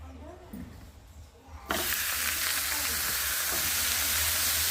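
Grated bottle gourd dropped into a hot pan erupts into a loud, steady sizzle that hisses continuously after a quiet start.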